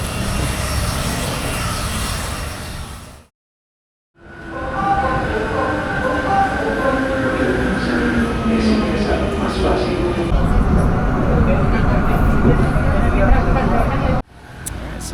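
A loud, close rumble of a moving train in Medellin, Colombia, with rising and falling whine, briefly cut out partway, with a voice talking over it.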